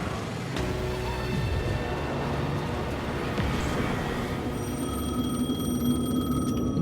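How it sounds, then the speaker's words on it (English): A telephone rings steadily in the video game Alan Wake 2, a continuous electronic bell tone layered over a dense, droning ambient game soundscape with low rumble, no talk. "Maybe I need to answer the phone."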